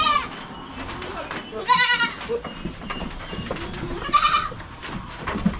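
Farm goats bleating in a few loud, wavering cries spaced seconds apart, heard up close over a steady background murmur.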